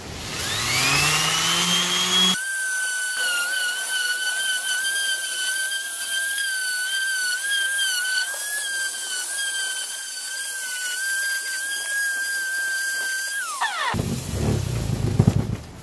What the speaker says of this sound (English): Same shitty sanding pad.